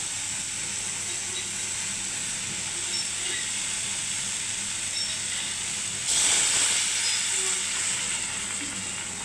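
Water poured into a hot pan of prawn curry with spiced gravy, giving a steady sizzling hiss throughout that swells louder for a few seconds partway through before settling back, with no talk.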